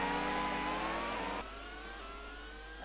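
A 2009 Formula 1 race car's high-revving engine whines loudly and steadily as it powers past another car for fourth place at the A1-Ring, the pitch climbing and then dropping abruptly before rising again, with no voices.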